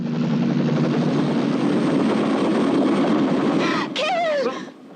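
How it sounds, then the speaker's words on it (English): A helicopter from a movie scene, its loud, steady rotor and engine roar close up for several seconds before a sharp screech and a drop in level near the end. "And then the helicopter ex machina shows up."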